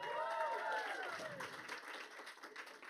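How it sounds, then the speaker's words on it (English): A live audience applauds at a Cannes Lions event as F1 driver Lando Norris is welcomed on stage, steady clapping throughout with voices and cheering over it. "Lando Norris, one round of applause, right?"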